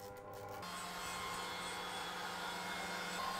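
A stand mixer whisks egg whites at high speed into meringue for pavlova, a steady, even motor whir with a rising hum that runs unbroken the whole time, no talking.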